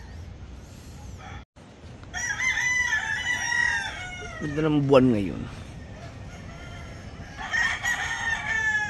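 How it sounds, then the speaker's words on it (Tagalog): A prized rooster crows once in the morning, close and loud and rising to a drawn-out call near the middle, while people talk over steady outdoor background noise. "Uy, yung aking paboritong manok."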